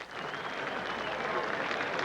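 Golf gallery applause for Jack Nicklaus at the 1986 Masters at Augusta, a steady, dense clapping wash from a large crowd that holds at even loudness throughout.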